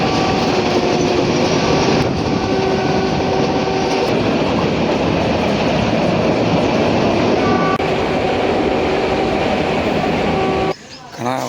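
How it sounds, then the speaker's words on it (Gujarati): A metre gauge passenger train at Chalala station on the Dhari–Junagadh line rumbles loudly and steadily close by, with a continuous roar and faint tonal squeals from the wheels before the noise suddenly drops at the end. "આપણી આ મીટર ગેજ ટ્રેન અત્યારે ચલાલાથી રેડી થઈ ગઈ છે."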